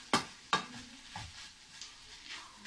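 Kofta meatballs cooking in a pan, a quiet steady sizzle broken by two sharp clatters of a utensil near the start and a softer knock later, close and without speech.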